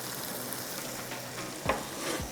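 Minced meat qeema with ginger sizzles steadily over a high flame, a broad crackling hiss with a couple of sharper scraping stirs near the end.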